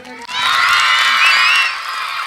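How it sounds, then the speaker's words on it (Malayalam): A large crowd at a school annual day celebration roars with loud cheering, whoops and shouting, a sustained swell of voices and clapping that rises quickly and holds before easing slightly. "എല്ലാവരും ഒന്ന് പവറായിട്ട് കൈയടിച്ചെല്ലാവരും."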